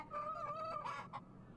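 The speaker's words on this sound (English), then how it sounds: "A rooster?" A rooster in a video game crows once, a clear, fairly close call with a drawn-out tone that rises and breaks off near the end, heard alone.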